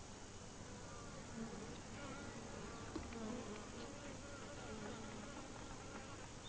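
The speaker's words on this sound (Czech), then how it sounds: "včely ke komunikaci používají i zvuky vytvářené vibrací křídel" A steady, continuous buzz of bee wings hums throughout, fairly faint, with no distinct breaks.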